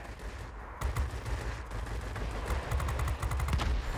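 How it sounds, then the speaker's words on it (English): Aircraft guns on an F7F Tigercat heavy fighter firing in World of Warplanes, heard as several rapid bursts of repeated shots over a steady engine drone, loud and close, with no talking. "So you do have the ability to gun down aircraft fairly effectively, like you see here."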